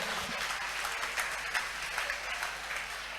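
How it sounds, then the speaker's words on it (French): A congregation applauds at a church gathering, steady continuous clapping throughout at moderate loudness with no talk over it. "Let's clap for the Lord."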